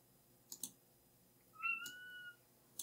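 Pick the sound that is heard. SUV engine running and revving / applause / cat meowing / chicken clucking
cat meowing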